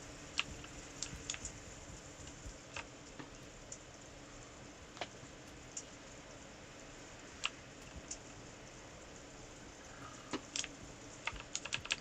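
Loud computer keyboard clattering steadily in a room, with irregular sharp key clicks over a low background hum and no talking.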